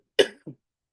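A single close cough followed by a brief, softer second hack, with silence around both.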